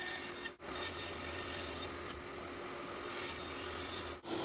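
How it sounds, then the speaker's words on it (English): A bandsaw cuts away waste between wooden dovetail tails for a side table, a steady rasping, rubbing saw noise that runs continuously and fairly close, broken by two brief pauses. "On the bandsaw I also remove most of the waste from the center tail and most of the waste from the outer tails."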